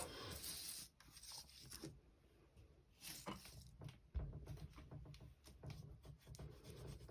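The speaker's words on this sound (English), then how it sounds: "It's just me rubbing ink on." Ink rubbed onto paper for a junk journal embellishment, a steady dry scrubbing and rasping that runs nearly the whole time in close, loud bursts with brief pauses.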